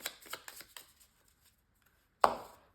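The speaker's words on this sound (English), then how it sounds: "So we'll go ahead and shuffle one of your homage cards back into your deck." Cards are shuffled back into a deck during a tabletop card game, with a quick burst of soft riffling snaps at the start, a quiet pause, then one sharper close slap of cards near the end.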